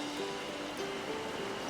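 The Shisorapuchi River in Hokkaido flows steadily past a riverside spot, a continuous broad rushing wash of water close by with no talk over it.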